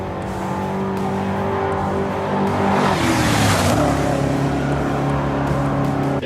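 A 1977 Ford F100 pre-runner pickup's engine roars steadily cruising at 80 to 90, rising in pitch and loudness midway as it accelerates hard, with harmonic whine and road noise.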